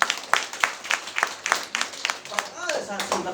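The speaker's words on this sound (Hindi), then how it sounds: "जोर से प्रभु के लिए तालियां" A church congregation claps, with sharp rhythmic claps standing out close by over a murmuring crowd, and a voice rising near the end.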